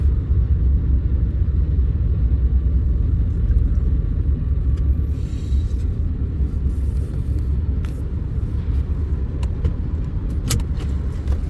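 Westbound intermodal freight train with four locomotives rolling past on the Missouri Valley line near Sioux City, Iowa, a steady heavy low rumble that holds for the whole stretch with a few faint metallic clinks and no talk.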